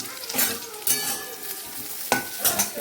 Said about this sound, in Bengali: আমি এখন খালি গরম গরম লাউয়ের ডগাগুলো রান্না করে নিই